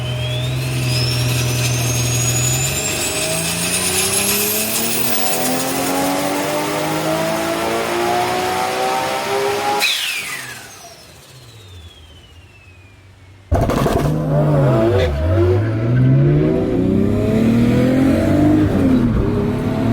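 A Nissan Skyline R33 engine running with no airbox revs hard and loud, pitch climbing through sustained pulls, dropping away briefly, then snapping back to full throttle with wavering rises and falls.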